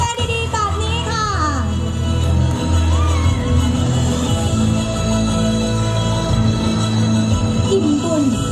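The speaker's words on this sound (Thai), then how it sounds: "ขอเสียงปรบมือดังๆนะคะให้กับแคมเปญดีๆแบบนี้ค่ะ" Audience at a charity campaign launch in Thailand breaks into sustained loud applause mixed with cheers and shouts, a dense continuous crowd roar with music playing underneath throughout.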